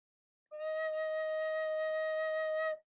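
A single steady recorder note, low E, held for about two seconds, low and mellow with a clean, sustained tone, played alone.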